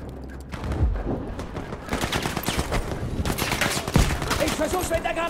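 Bursts of gunfire in Battlefield V crackle through a chaotic battle, with rapid rifle and machine-gun fire and a couple of sharper booming shots. Players talk over the fighting.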